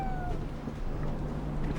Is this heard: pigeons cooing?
no